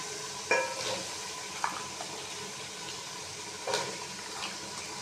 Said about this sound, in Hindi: इसको भी हम अच्छे से भूनेंगे।